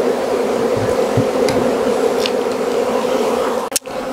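Honey bees buzz busily at a hive entrance in December in South Alabama, a steady close drone of many insects filling the air, with a few individual bees passing nearby and a short knock near the end.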